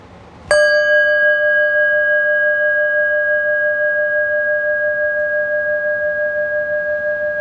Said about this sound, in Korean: 이 종소리가 분명하지 않으신가요?